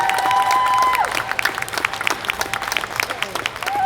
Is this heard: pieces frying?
no